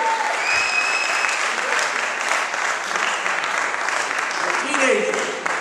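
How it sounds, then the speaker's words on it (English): Audience applause for a teenage comedy duo at their first gig, a dense, steady wash of clapping from a crowd that holds evenly for several seconds. "Give them a big round of applause."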